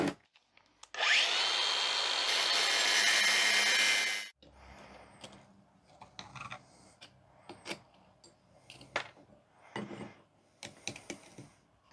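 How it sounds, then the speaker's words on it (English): An angle grinder cuts metal off a rivet on an old cast iron toy wheel from a vintage pedal car, a loud steady grinding burst of about three seconds, followed by quieter clanks and scraping handling noises. "I might just grind a touch more off that so that that falls apart."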